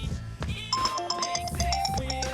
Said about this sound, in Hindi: अरे डार्लिंग का फोन आ गया।